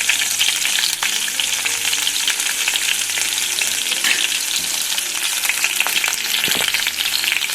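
Crushed garlic sizzles steadily in hot oil in a pan while frying for a home-style junka curry, a continuous dense crackle with occasional light stirring, no voices.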